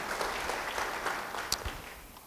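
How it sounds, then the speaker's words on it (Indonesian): A church congregation claps for a short burst of quiet, uneven applause lasting about two seconds, with a few sharper individual claps standing out. "Beri tepuk tangan bagi Tuhan"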